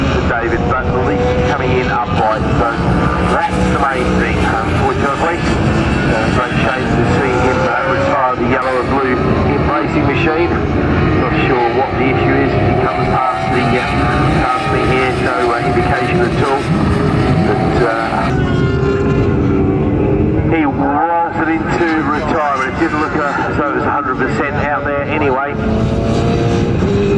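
Racing motorcycles, powerbikes and 1000cc club machines, on track at Pembrey circuit, their engines roaring continuously and loudly as bikes pass, with a race commentator talking over the noise.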